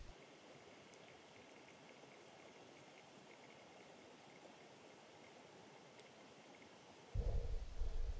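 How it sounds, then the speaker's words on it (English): Water gurgles softly as a river leaves the head of a loch on a quiet Donegal coastal walk, a faint continuous wash that swells into a louder rush at the end. "Not a sound except for the gurgle of water as the river sort of leaves the"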